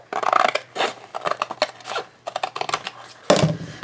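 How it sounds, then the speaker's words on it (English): Scissors snip and crunch through a paper box along its seam in a run of short, close, irregular cuts with brief pauses between them. "So what I'm going to do is I'm going to cut along the seam."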